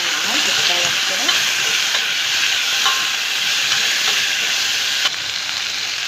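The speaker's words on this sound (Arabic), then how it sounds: "هقلبها معاها تتشوح كده." Green beans sauté with browned onion in a hot pan, giving a loud, steady close-up sizzle with occasional stirring clatter and no talking.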